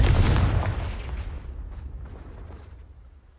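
The Confringo fire spell bursts in the Hogwarts Legacy video game as a loud, close explosive boom that rumbles and fades away over a few seconds.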